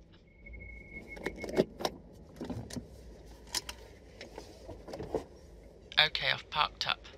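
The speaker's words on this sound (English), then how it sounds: "I'm just parking up now." A car is being parked: a low engine hum and rustling movement inside the vehicle, with a burst of jangling keys near the end, heard close and moderately quiet.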